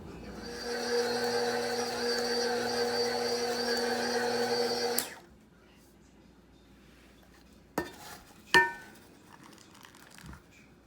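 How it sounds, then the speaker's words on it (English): An electric mixer whirs steadily while blending raisins, oats and flour into cookie dough, its motor humming with a strained tone for several seconds before cutting off, leaving quiet kitchen clatter and a couple of knocks. "now I'm adding it all up and mixing it together"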